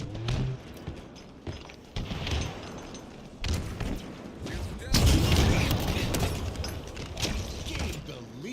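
Grenade blasts and gunfire in Halo Infinite multiplayer, with repeated booming bursts, the loudest near the end, under a busy mix of game sounds and player chatter.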